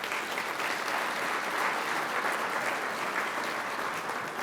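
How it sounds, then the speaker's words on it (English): An audience at an environmental conference keynote breaks into sustained applause, many hands clapping steadily from a moderate distance at an even level throughout. "Let's give them another round of applause."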